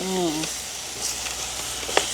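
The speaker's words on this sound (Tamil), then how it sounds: "நண்டெல்லாம் அடிபடுது சட்டிக்கு." Crab curry sizzles and fries in a village cooking pan, a steady hiss with occasional stirring clinks and a brief voice at the start.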